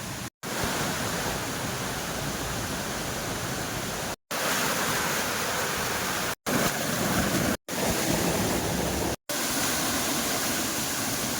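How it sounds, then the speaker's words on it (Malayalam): A forest stream and small waterfall rush in a loud, steady, broadband wash of water, interrupted only by a few abrupt brief cuts, with no voices. "വെള്ളത്തിൻ്റെ ചെറിയ നോയ്സ് നല്ലപോലെ ഉണ്ട് കേട്ടോ, ചെറുതല്ല, നല്ലപോലെ ഉണ്ട്"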